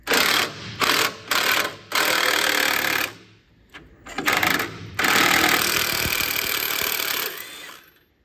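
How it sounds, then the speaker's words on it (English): A power tool, likely an impact gun, zips bolts off the skid plate of a Land Rover Discovery in loud close bursts, several short rattling runs and then a longer sustained one before tapering into silence. "I'm going to remove the skid plate."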